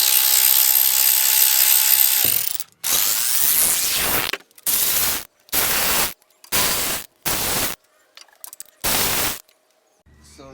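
An impact gun working on the differential cover bolts of a Dana 44 axle: a long continuous whir, then a series of separate loud bursts with short gaps between them, close up, with no talking.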